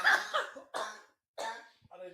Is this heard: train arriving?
no